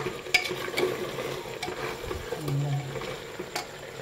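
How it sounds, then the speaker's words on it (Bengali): Potatoes and tomatoes sautéing for curry, a soft low sizzle under occasional light scrapes and clinks of a stirring spoon in the pan, fairly faint and without talk. "আলুগুলোকে দিয়ে এবারে আরও এটাকে 5 মিনিট ভালো করে কষিয়ে নিই।"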